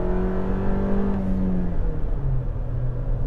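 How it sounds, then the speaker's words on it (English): A 2022 Toyota RAV4 TRD Off Road engine roars at full throttle, a loud, rough cabin drone whose pitch climbs steadily, then drops briefly at a shift before rising again; no talking. "The engine makes a racket when you floor it."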